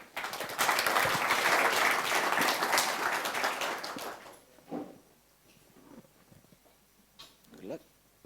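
An audience at a design evening on nature as inspiration gives warm applause. Dense, loud clapping runs for about four seconds, then drops away abruptly. Afterwards a few stray sounds and a speaker's voice are heard in a quieter room.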